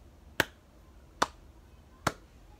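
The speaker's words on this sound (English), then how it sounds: "Slow clap." Three slow, evenly spaced claps ring out sharply and close, a deliberate slow clap with quiet pauses between the strikes.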